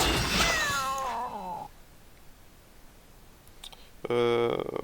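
A kitten summon meows in a tactical PvP video game, a clear rising-falling cry up front, followed by a quiet gap and then a burst of bright chiming game effects near the end.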